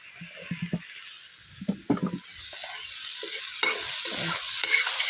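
Salted leafy greens fry in a pan while being stirred, with a steady sizzle and irregular scraping strokes of the spoon that come close and loud in bursts.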